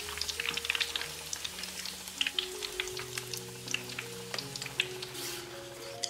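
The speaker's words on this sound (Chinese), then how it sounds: "锅中油温继续升高，放入肉条复炸1分钟，搅拌一下防止炸糊。" Pork strips double-frying in hot oil for crispy fried pork, a soft continuous crackle and sizzle with scattered pops and light stirring, fairly quiet and close.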